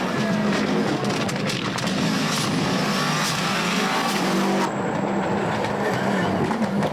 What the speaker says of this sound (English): Thierry, driving like a man inspired, takes 7 seconds and then 10 seconds from Loire on the first 2 stages